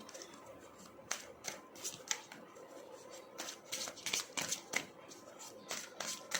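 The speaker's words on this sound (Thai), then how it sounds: "ไพ่นี้สับยากมากค่ะ" Tarot cards are shuffled by hand close to the listener in a string of quick, crisp riffling and slapping bursts at an uneven rhythm. Faint talk is present underneath.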